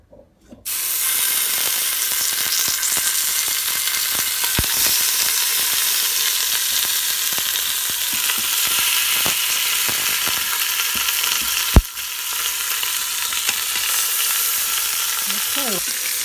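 Beef short ribs sear on an Instant Pot's saute setting with a loud, steady sizzle and hiss, dotted with small pops and one sharp clatter near the end.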